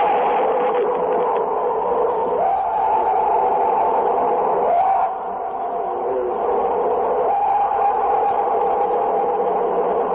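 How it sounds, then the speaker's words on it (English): A purported Bigfoot scream, heard on a radio broadcast recording as a long, loud, sustained wavering howl with a brief dip partway through, muffled and band-limited. "That, of course, is actually a Bigfoot scream."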